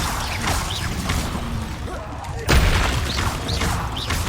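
Magic spell blasts and explosions from Hogwarts Legacy, with repeated booming impacts and whooshes, one heavier bang near the middle, dense and loud throughout over game ambience.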